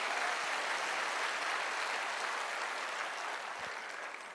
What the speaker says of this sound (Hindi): अच्छी वाली ताली जरूर बजा दें।